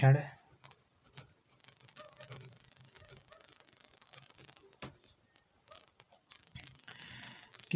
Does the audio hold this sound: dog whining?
no